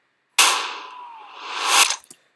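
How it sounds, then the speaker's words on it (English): A reversed gunshot sound effect swells from a sudden bright onset into a hollow sweep and builds back up to a loud peak before cutting off, followed by a couple of brief clicks. "you can hear that gunshot on its own has created that build-up"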